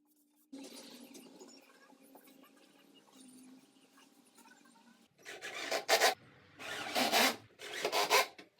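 Old finish is sanded off a wooden cabinet for a TV unit: a soft, quiet rubbing scrape runs through the first few seconds, then three loud, rasping bursts of sanding strokes follow close by, each about a second long.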